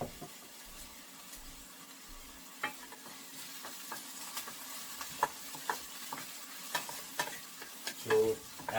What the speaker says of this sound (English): so as we do this, the onion will turn brown